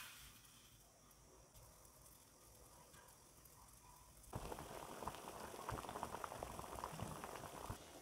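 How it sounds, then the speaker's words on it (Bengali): Two mangoes boil in water in a wok, a soft, quiet bubbling that grows noticeably fuller and busier partway through, with no one speaking. "কড়াইতে জল বসিয়ে দিয়েছি, জলের ভিতরে আম 2টা দিয়ে ভালো করে সিদ্ধ করে নেব"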